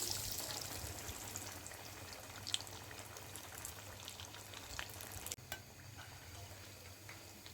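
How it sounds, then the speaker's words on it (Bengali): Potato chops fry in oil over medium heat, a steady close crackling sizzle with occasional faint ticks and a brief clatter near the end. "মাঝারি আঁচে হালকা ব্রাউন করে সবগুলো চপ ভেজে নিয়েছি।"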